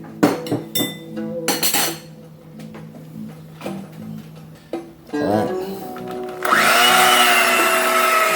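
An electric blender mixes banana walnut cake batter with prunes, a loud steady whirring that kicks in near the end after several clinks of utensils and bowls in a kitchen.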